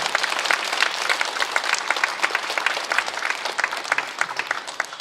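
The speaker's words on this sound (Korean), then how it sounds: "우리 주님께 영광의 박수 돌리겠습니다" A church congregation claps together in praise at a prayer meeting, a dense, loud, sustained patter of many hands filling the room, with faint voices mixed in.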